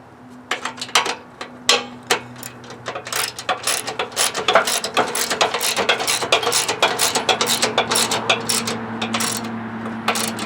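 A ratchet wrench clicks rapidly in steady bursts while tightening a bolt on the live axle of a go-kart converted from a Craftsman tractor, close and loud over a low hum, with no talking.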